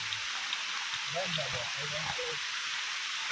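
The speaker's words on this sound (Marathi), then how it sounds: "हे पहा जोरात पाऊस आहे" Heavy rain falling on a grassy hillside trail, a steady hiss of downpour with a person talking over it partway through.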